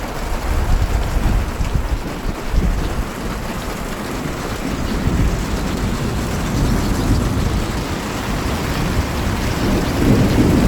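A thunderstorm rolls in over rural Romania or Hungary, with steady heavy rain hissing and low thunder rumbling throughout, loud and close with no voices.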